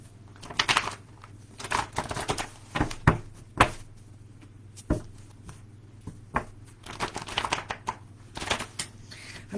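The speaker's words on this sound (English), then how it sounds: "I'm just doing some quick shuffling here" Cards are being quickly shuffled for a reading, giving irregular sharp snaps and clattering bursts at close range over a quiet background, with no talk.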